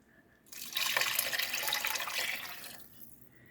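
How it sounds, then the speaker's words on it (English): Three cups of water pour into a cooking pot in a steady splashing stream that starts abruptly, runs for about two seconds and then tapers off. "Now we're going to add 3 cups of water"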